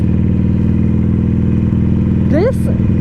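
Harley-Davidson Iron 883 Sportster idles with a loud, steady, throbbing low rumble, close by, while a rider talks over it with an excited rising exclamation near the end.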